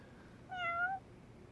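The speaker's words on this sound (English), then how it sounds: "What is up, my cat buddy?" A cat in the video game Lost Judgment gives a single clear, rising-then-falling meow, close and distinct over a quiet background, with no talk.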